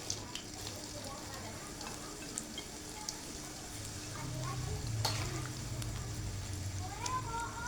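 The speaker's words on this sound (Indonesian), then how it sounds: "Minyak udah panas, tempenya kita goreng dulu." Steady sizzling of tempeh frying in hot oil, growing louder partway through, with occasional clinks and stirring sounds over it.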